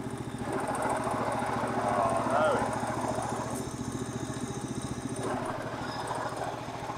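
A 1963 Bolens Husky 600 lawn tractor engine chugs steadily at close range, its rhythmic mid-pitched putter holding through gear changes with a brief rise and dip, while someone talks over it.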